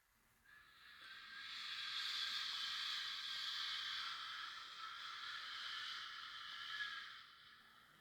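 A voice imitates a rustling forest, making a long, airy shushing noise that rises, holds and fades out, heard alone without any speech.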